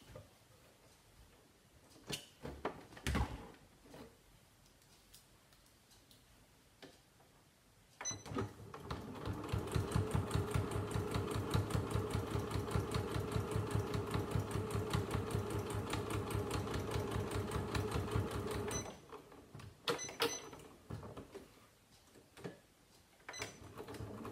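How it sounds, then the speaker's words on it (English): A sewing machine top-stitches around the edge of a fabric coaster, running in one steady, fast, rhythmic stretch at moderate volume, with quiet handling noises before and after. "sew around the edge just to give it a top stitch."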